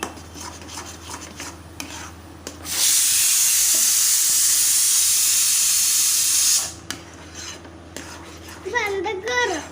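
A loud, steady hiss of steam bursts out for a few seconds, surrounded by quieter clinks of utensils against a pot.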